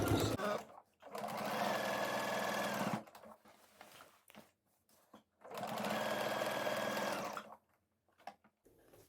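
Sewing machine stitching along a pants waistband, running in two steady, loud bursts of about two and four seconds with quieter handling noise between them.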